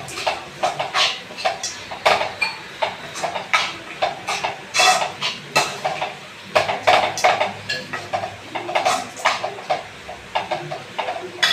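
A spoon repeatedly scrapes and clanks against a pot while food is stirred over a low flame, the quick uneven strokes close and continuous throughout.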